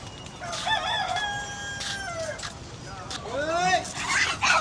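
A rooster crows twice, one call early and another near the end, amid farmyard clucking and background noise.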